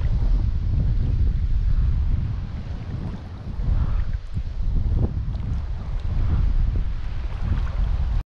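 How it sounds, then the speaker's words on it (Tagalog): Gusty wind sweeps over a small fishing boat at sea, a low rumbling roar that dips briefly midway and then returns strong, with faint knocks and water sounds beneath and no talk. "Medyo mahangin mga idol."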